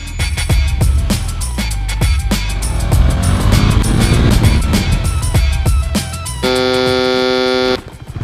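A KTM Duke 250 motorcycle accelerates hard, its engine revving loud and close with rising pitch, and a steady blaring tone joins near the end.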